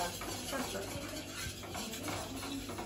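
A utensil stirs white sauce for pasta in a pan, making a soft continuous scraping and swishing with light clinks, fairly quiet and steady, with no voices.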